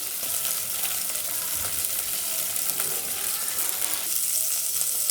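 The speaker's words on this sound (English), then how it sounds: "Let them fry for 1 minute." Onions sizzle steadily in a pressure cooker while pulao is prepared, a constant bright hiss of frying with faint stirring scrapes and no talking.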